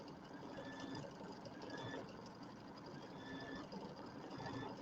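An embroidery machine quilts a fabric border with a steady, fast mechanical hum and rattle, constant and fairly quiet, with no voices.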